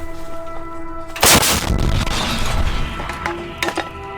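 An artillery gun of the Da Vinci Wolves unit fires a single loud, sharp blast that rolls into a long rumbling decay, over a steady mechanical hum, with a couple of smaller knocks afterward.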